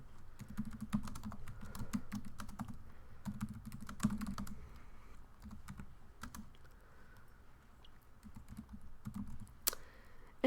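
Soft, close typing on a computer keyboard, with irregular bursts of light key clicks and brief pauses, fairly quiet with no talking.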